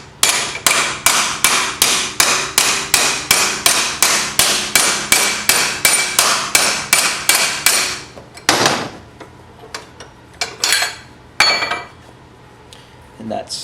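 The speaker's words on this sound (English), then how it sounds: "I grab a brass hammer" Brass hammer striking a metal bar clamped in a vise: about twenty loud, evenly spaced ringing blows in quick succession, then a few scattered metallic knocks and clinks.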